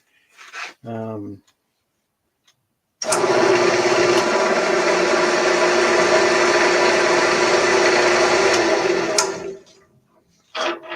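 Wood lathe spinning while a tenon is cut on a wooden piece, a steady loud whirring hum with broadband cutting noise lasting about six seconds, preceded and followed by brief speech.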